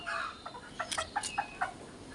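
Laying hens on a small home poultry farm cluck in a series of short, separate calls, fairly close, with no one talking.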